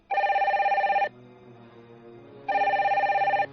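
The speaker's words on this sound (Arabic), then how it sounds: "في تلك الأثناء رن الهاتف" A telephone bell rings in two loud, rapid trilling bursts of about a second each, separated by a short silence, close and clear with no voices.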